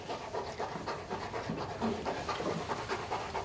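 A police dog pants rapidly and steadily close by, a rhythmic string of quick breaths with no voices over it.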